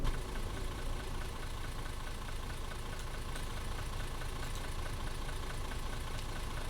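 Simulated city bus engine in OMSI 2 running at a steady idle after ignition, a continuous low rumble with faint knocking, close and constant throughout with no talking.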